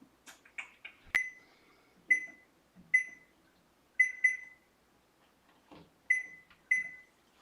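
A kitchen timer set while baking sweet potato buns: a run of quick button clicks, then a series of short, sharp electronic beeps, some single and some in pairs, close and clear with no talk.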